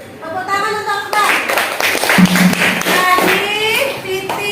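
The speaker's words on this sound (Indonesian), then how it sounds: "Tepuk tangan untuk Akbar." Classmates clap for a student in a classroom, a run of sharp hand claps set among children's voices chanting or talking together over the clapping.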